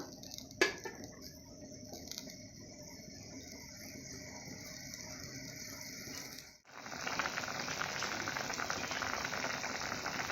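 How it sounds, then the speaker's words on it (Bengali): Water for a vegetable curry boiling in a pan, a steady close hiss of bubbling that gets louder and denser partway through after a brief dip, with a single sharp tap near the start. "জল যতটা লাগবে সেভাবে তোমরা জল দিবে এই কিছুক্ষণের জন্য ফুটিয়ে নেবো"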